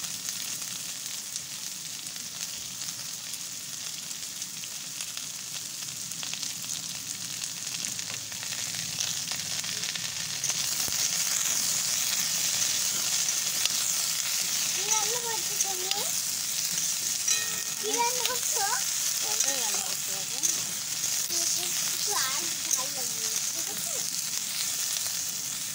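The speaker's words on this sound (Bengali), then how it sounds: "তো এবার এটা ভাজা ভাজা হয়ে গেছে অল্প, এবার দিয়ে দেবো হচ্ছে ঝিঙেগুলো দিয়ে দেবো" Urad dal frying in a pan with sliced ridge gourd being added, a steady close sizzle throughout that grows louder partway through, with occasional stirring scrapes and clinks and no talking.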